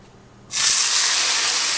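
Olive oil spray bursts onto a hot pan for cooking fish, a sudden loud hiss that cuts in from near silence and holds steady to the end.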